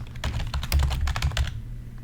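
Rapid typing on a computer keyboard, a close, quick run of clicking keystrokes for about a second and a half before stopping, with a low hum underneath.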